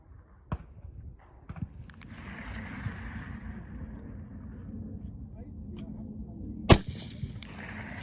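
Single sharp rifle gunshot cracks out loud and near at an outdoor shooting session, set against a steady low rumble of background noise and a few fainter knocks.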